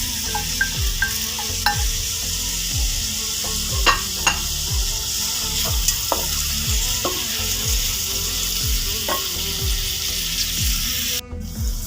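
Onions sautéing in a pan for beef stew, a steady sizzle with repeated stirring scrapes ticking through it, close and even throughout, with no talking.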